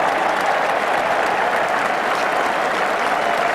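A cricket crowd at an Ashes Test applauds David Gower's cracking shot off the bowling of Gilbert, a steady, dense wash of clapping that holds evenly for the whole stretch.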